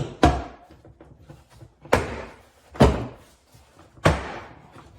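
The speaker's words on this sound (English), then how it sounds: "grab the bottom of the door panel and start pulling on it, and that's going to disengage the clips holding it on" Four sharp plastic pops with dull thuds as the clips of a 2010-2015 Lexus RX350 front door panel let go while the panel is pulled off, spaced about a second apart, close and otherwise quiet.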